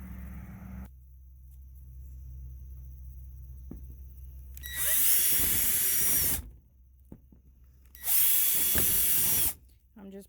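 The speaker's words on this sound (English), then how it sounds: "I'm just pre-drilling holes so that I can come back and put all the screws in" A power drill pre-drills screw holes in greenhouse roof panels: two loud, close bursts of high whine a few seconds each, separated by quiet stretches with a low background hum.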